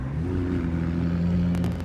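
Cars at Sonoma Raceway hum steadily at a moderate distance on the way out onto the track, a low continuous engine drone.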